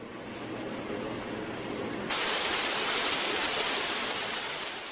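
Artificial waterfall at a hospital, a steady broadband rush of falling water that grows louder and brighter partway through, continuous and close with no voices.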